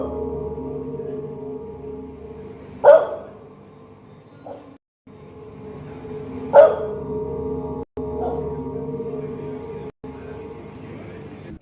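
A dog barks twice, several seconds apart, each a short sharp yelp over a steady low hum inside a dark supermarket.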